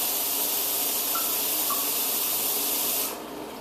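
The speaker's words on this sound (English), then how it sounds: "I'm going to fill the machine, the container." Water pours into the removable water container of a Keurig coffee machine as a loud, steady rushing spray that stops abruptly just before the end.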